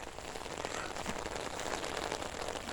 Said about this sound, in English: Rains are coming down.